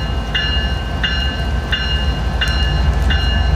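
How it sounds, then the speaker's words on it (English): A CN freight train rolls past in a rail yard laid with continuous welded rail, a steady low rumble with rhythmic clicks of wheels over joints repeating about every 0.7 seconds, close and continuous. "And a train behind us."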